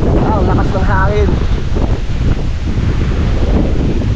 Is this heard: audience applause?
no